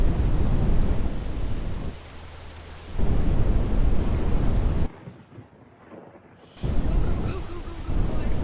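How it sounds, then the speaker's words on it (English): A southern thunderstorm seen from a mobile weather lab while chasing tornadoes, with loud broadband roaring rumbles that drop away briefly to near quiet midway, then surge back; no talk. "Yeah, there's a southern storm."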